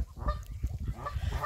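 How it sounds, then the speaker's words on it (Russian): Geese honking at a zoo in Burgas, repeated close, nasal honks in an uneven rhythm over outdoor background noise. "Вот еще гуси."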